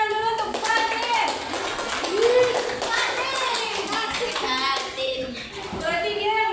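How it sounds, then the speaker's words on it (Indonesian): Young students clap for a classmate in an Islamic boarding school classroom, a lively patter of hands mixed with children's chatter throughout. "tepuk tangan dulu untuk Fatin"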